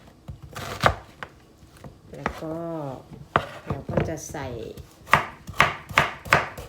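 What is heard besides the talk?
knife chopping onion into dice on a board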